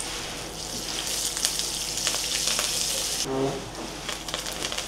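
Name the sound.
tempering of dals, mustard seeds and curry leaves sizzling in oil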